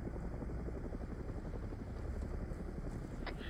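An Mi-8 helicopter flying overhead in the military video game Arma 3, a continuous rapid rotor chop thumping steadily throughout, fairly loud and unbroken, with a faint brief blip near the end.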